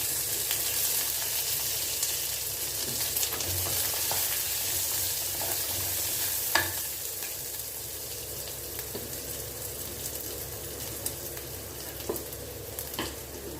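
Garlic frying in oil in a pan gives a continuous, fairly loud crackling sizzle, with occasional stirring clicks and scrapes scattered through it and no voices.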